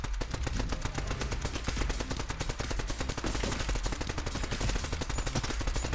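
Rapid, continuous automatic gunfire rattles without pause, loud and dense, like a machine gun in a battle in the video game Neon Abyss.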